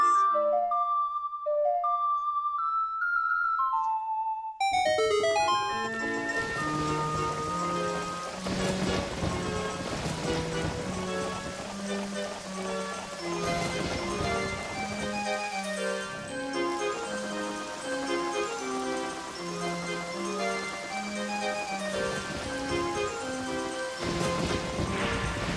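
Song of Storms ocarina melody from Zelda: Ocarina of Time opens alone, then a steady hiss of rain falls over the quickening tune, staying loud and continuous throughout.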